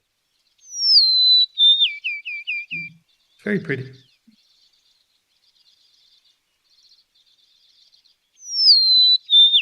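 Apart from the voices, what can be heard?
recorded sparrow song played at birdwatchers meeting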